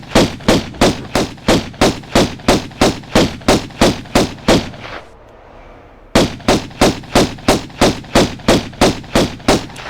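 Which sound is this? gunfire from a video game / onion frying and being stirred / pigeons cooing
gunfire from a video game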